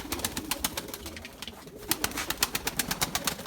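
Young white pigeons in a loft give soft rhythmic coos and wing flutters, a quick pulsing series of close calls with light rustling underneath.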